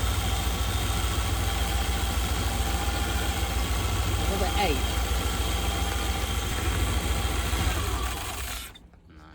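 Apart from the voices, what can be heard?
dragster engine idling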